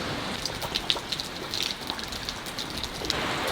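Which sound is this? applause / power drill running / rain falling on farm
rain falling on farm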